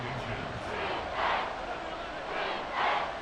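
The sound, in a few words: stadium crowd noise in Madden NFL 24 video game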